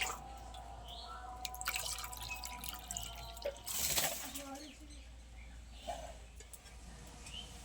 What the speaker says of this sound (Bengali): আমি আরেকবার জল দিয়ে দেবো এতে।